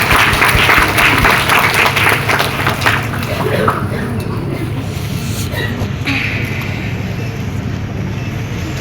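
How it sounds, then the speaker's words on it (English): Audience at a women's convention applauding as guests come on stage, a dense wash of clapping that fades over several seconds into room noise with faint murmurs. "Give them a round of applause."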